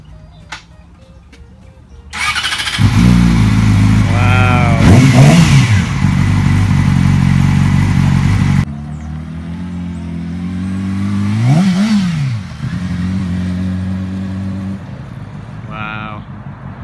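A motorcycle engine starts up and idles with a steady throb, then revs up in a few rising and falling bursts, running loud and close throughout while a voice briefly talks over it.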